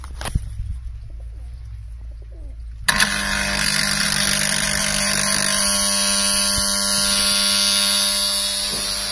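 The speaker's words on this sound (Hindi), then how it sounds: "वाल्व खोल लेते हैं और फिर मोटर स्टार्ट करते हैं।" A water pump motor starts abruptly after a quiet stretch with faint birdsong, then runs loudly and steadily with a constant whine and hum.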